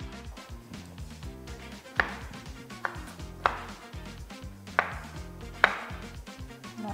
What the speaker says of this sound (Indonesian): Untuk tomatnya di sini ya, bisa diparut kalau nggak mau ada tekstur tomatnya, tapi kalau aku lebih suka ada teksturnya, jadi aku potongnya